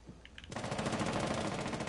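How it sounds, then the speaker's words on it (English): Rapid automatic gunfire in the Rainbow Six Siege video game follows a couple of soft clicks and then hammers on as a dense, loud burst for over a second. "I hear gunfire."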